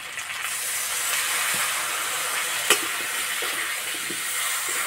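A hot pan of spiced potatoes coated in cumin, coriander, turmeric and chilli powder hisses in a steady broad sizzle after a little water goes in, with one brief sharp crackle midway.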